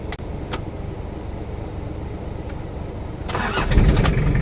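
A 1966 Toyota Crown RS-41 with a 2L diesel engine cranks over, with a steady low churn throughout that swells into a louder, rougher catch near the end as the engine fires.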